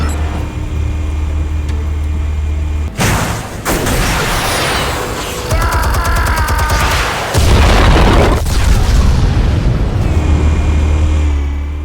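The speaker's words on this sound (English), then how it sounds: "Explosives armed. Fire when ready." Explosives detonating in the Batman Telltale Series video game: a loud broadband blast near the three-second mark, then a long heavy rumble with crackling debris and a second surge, all over a low steady drone.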